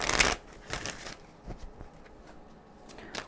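Tarot cards are shuffled up close: a crisp riffle opens, followed by softer, intermittent slides and taps of the cards in a quiet room.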